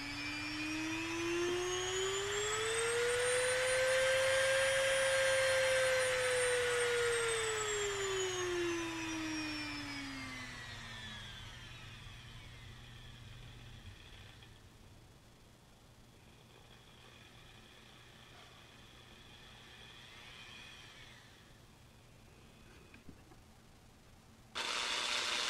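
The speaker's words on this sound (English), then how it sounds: "Speed is going up as the potentiometer knob is being rotated." A universal motor on a potentiometer speed control gives a loud, steady whine whose pitch climbs smoothly, peaks, then drops away into a lower whir, with no talking.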